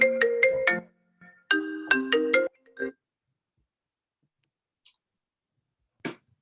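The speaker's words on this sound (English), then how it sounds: "I heard a phone thing in there" A phone ringtone cuts into an online meeting. Two bursts of rapid tonal beeps sound close and clear, followed by a couple of faint clicks and short blips in otherwise near silence.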